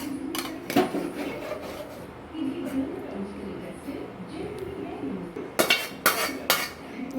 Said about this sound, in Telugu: ఇక్కడ రైస్ అంతా యాడ్ చేసుకొని ఇప్పుడు దాన్ని మంచిగా స్ప్రెడ్ అయితే చేసుకోవాలన్నమాట